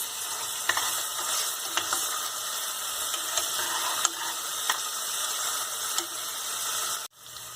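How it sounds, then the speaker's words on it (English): Ginger garlic paste frying in a pan for pav bhaji, a close, continuous crackling sizzle with small spatula scrapes and clicks scattered through, ending in a sudden knock. "Now add ginger garlic paste. And cook this for 1 to 2 minutes"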